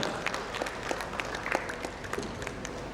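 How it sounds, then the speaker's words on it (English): Moderately sized conference audience at a business summit panel gives steady, slightly distant applause of many crisp overlapping claps, continuing evenly throughout. "A big round of applause to Ashish."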